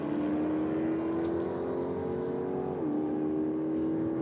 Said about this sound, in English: The second of our Chryslers on the start line, taking on the BMW hatch this time around.